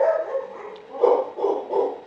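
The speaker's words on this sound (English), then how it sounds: "sorry for the barking." Dog barking indoors, a few muffled, medium-pitched woofs in quick succession, somewhat distant and moderate in volume.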